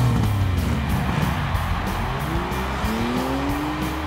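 Monster truck racing at a derby, with loud roaring engines and squealing, skidding tires, plus rising engine whines sweeping upward, continuous and close throughout.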